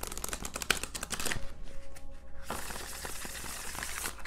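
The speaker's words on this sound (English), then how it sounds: "If I could shuffle, that would be great." Tarot cards shuffled by hand at close range: a dense, crackling riffle of card edges that pauses briefly, then resumes steadily.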